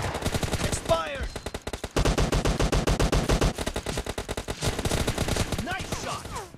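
Rapid automatic gunfire from the mobile shooter PUBG Mobile Lite during a team deathmatch, loud continuous bursts with short pauses, plus a few faint game effects.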